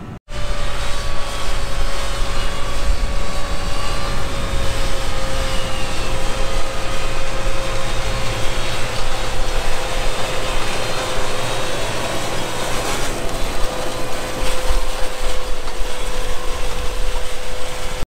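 A steady, loud engine drone with a constant tone runs throughout from a Fendt 1042 tractor running close by, with no talking.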